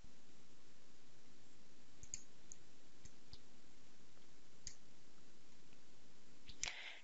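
Sparse, faint, sharp mouse clicks sound at irregular intervals while steel structure design software is used, set against a quiet, steady background hiss.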